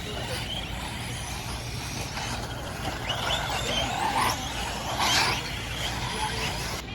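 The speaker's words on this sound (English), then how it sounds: "We have some e-chuggies running out just to try and dry out the track" Electric RC off-road trucks race around a damp outdoor dirt track at a competition, their motors whining in a continuous broadband drone with brief louder surges as they pass nearby and skid through corners.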